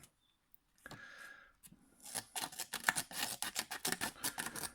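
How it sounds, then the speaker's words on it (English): The spring-loaded scissors of a Gerber Dime multi-tool snip close by, first with a soft rustle, then with a quick series of crisp, rhythmic clicks and cuts. "You have a pair of scissors, which are spring-loaded and absolutely fine."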